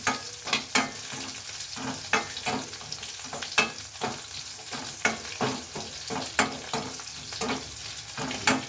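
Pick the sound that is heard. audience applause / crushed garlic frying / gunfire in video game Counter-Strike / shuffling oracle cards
crushed garlic frying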